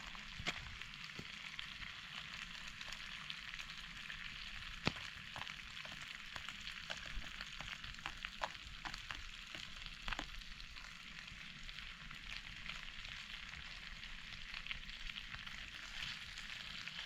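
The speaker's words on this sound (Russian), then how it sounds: "Брошу лук нарезанный." Chopped onion tossed into a hot pan and frying, a steady close sizzle with scattered crackles and occasional spoon or pan clicks throughout, no talking.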